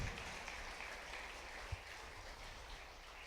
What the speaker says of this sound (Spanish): Le damos un aplauso fuerte al Señor en esta noche.